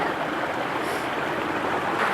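Rushing water from a waterfall pours in a steady, broadband roar close by, constant and unbroken with no voices over it.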